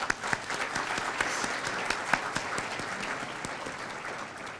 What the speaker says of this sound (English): May we all give him a round of applause.